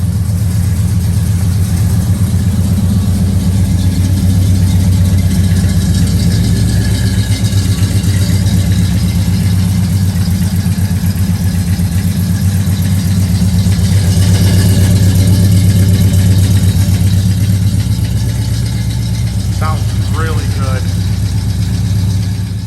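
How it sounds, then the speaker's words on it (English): A 1969 Oldsmobile Cutlass S engine with dual exhaust idles steadily and loudly up close, a low rumbling drone with faint voices in the background. "Nice temperament on the motor."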